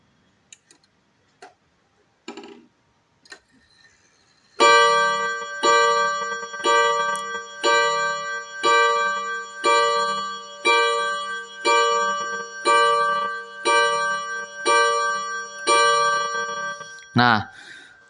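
A Seiko wall clock strikes twelve o'clock, a long series of about a dozen evenly spaced bright bell chimes, loud and close, after a few faint knocks and brief sounds at the start.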